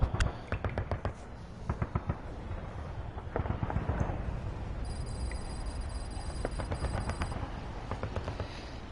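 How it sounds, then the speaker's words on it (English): Repeated explosions from a video game, with sharp blasts at irregular intervals over a dense, rumbling background, heard at moderate level with no speech. "It might just be because it's explosions."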